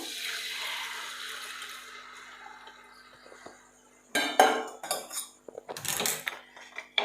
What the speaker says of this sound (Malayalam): നമ്മളിനി ശർക്കര പാനിയാക്കി വെച്ചിരിക്കുന്നത് നമ്മൾ ഇതിലേക്ക് ഒഴിക്കുകയാണ് ചെയ്യുന്നത്.